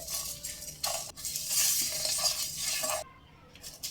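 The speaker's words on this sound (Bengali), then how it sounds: "এক স্পুন গোটা ধনে আর হাফ স্পুন কালো গোলমরিচ লো ফ্লেমে কয়েক মিনিট সমস্ত মশলাগুলো একটু গরম করে নিতে হবে" Whole coriander seeds, fennel seeds and black peppercorns are dry roasted in a pan over a low flame. Soft rattling, scraping stirs run continuously, then a brief pause and a fresh stroke, fairly faint and close.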